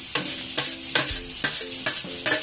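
Spring onion and carrots stir-fried in a pan still holding the fat from cooked egg, with a steady close sizzle broken by regular rhythmic scraping strokes of a spatula, about one every half second.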